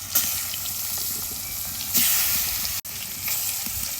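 Fish pieces frying in hot oil in a wok, a steady close sizzle and crackle with brief louder spurts and a short break partway through.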